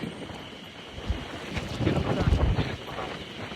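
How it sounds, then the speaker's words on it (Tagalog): Gusty wind buffets the microphone with rumbling bursts that swell louder toward the middle, with faint background noise. "Ang lakas ng hangin."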